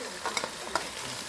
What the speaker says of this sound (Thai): นำไปผัดให้กระหล่ำปีเรายุบตัวนะครับ